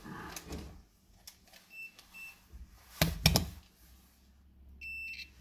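Short electronic beeps from a multimeter in continuity mode testing an Asus ROG GL752VW laptop board, a few brief tones and a longer steady beep near the end, amid small clicks and handling noise, close and fairly quiet.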